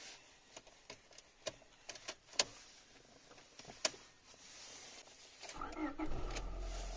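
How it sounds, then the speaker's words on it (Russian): A car engine cranks and starts near the end after a series of faint clicks and ticks, settling into a low steady idle, recorded quietly from inside or close to the vehicle. "Сейчас вот запустим двиг."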